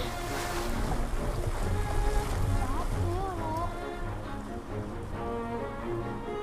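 Boat sailing on open water in the video game Blox Fruits, with a steady wash of waves and wind noise, some engine-like hum and game music tones, while voices talk over it.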